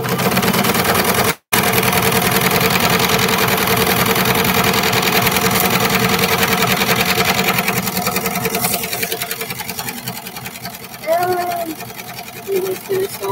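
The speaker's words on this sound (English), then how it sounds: "So a nice little serging stitch." A serger sewing machine stitching the seam of a pair of shorts, a fast steady mechanical whir running close and loud, briefly cutting out near the start and slowing and fading toward the end.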